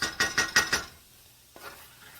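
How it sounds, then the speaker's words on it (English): A utensil stirs seasoned chicken in a skillet, with four quick scraping strokes up front, followed by a quiet pause and a faint clink near the end. "Just get it mixed in."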